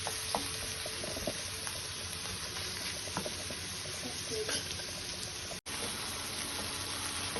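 Tomatoes, green chilli and spices stir-fried in a pan until soft for a mustard pabda fish dish give a steady low sizzle with occasional scraping taps of the spoon, briefly cutting out near the end.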